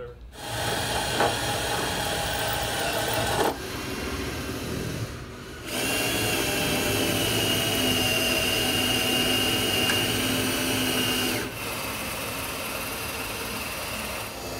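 A steady, loud whine of a power drill boring out spot welds on a Camaro Z28, running in long continuous bursts with brief pauses between them.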